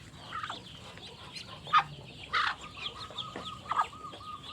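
Brooding mother hens, kept as breeding stock for jumbo chickens, give short irregular clucks and a few sharper squawks at close range, with no speech.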